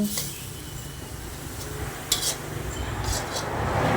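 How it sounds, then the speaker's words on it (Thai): Sweet and sour shrimp with cucumber being stir-fried in a pan: a soft continuous sizzle with scraping and clinking of a utensil against the pan, a few sharper metallic knocks standing out. "เราก็ผัดให้เข้ากันนะคะ ผัดให้น้ำตาลละลายนะคะ ให้แตงสุกนิดนึง"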